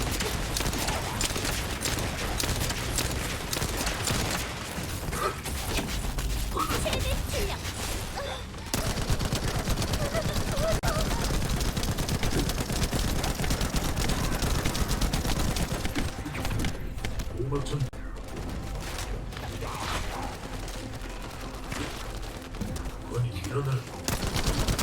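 Sustained volleys of gunshots and automatic fire in a shooter video game, loud and almost unbroken throughout, layered over a thick wash of game effects.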